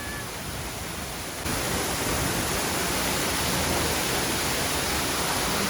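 The waterfall at Sarpi, Georgia, near the Turkish border, roars as a steady, broad rush of falling water that grows louder after the first second and continues alone without talk.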